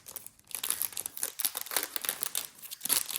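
Plastic packaging holding a set of tabbed cash envelopes crinkles and tears as it is opened, a loud, close, continuous rustle with one brief lull near the start.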